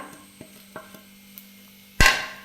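A spoon taps and scrapes in a pan while grated coconut is stirred into prawn chutney, several light separate clicks followed by one louder scraping clatter near the end.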